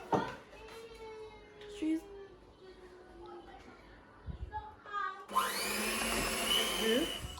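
Electric mixer blending cupcake batter: someone talks at first, then a loud, steady motor whir starts and runs to the end.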